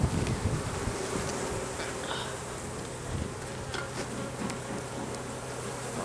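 Honey bees swarm around an open hive during a frame inspection, a dense steady buzz with individual bees droning past close to the microphone, light wind in the background.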